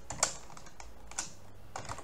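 Computer keyboard typing while entering text in an Excel spreadsheet, a few scattered soft key clicks close by with short pauses between them.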